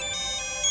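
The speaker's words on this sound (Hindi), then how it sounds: "अननोन नंबर है, लगता है शिखर का फोन होगा" A phone rings with an incoming call from an unknown number, a steady electronic ringtone pattern playing fairly quietly in a room, with no voices over it.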